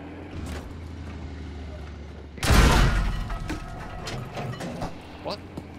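A Pak 40 anti-tank gun round strikes a tank in Battlefield 5 with a sudden loud, close impact boom that decays into rattling debris over the tank's engine drone, with talk nearby.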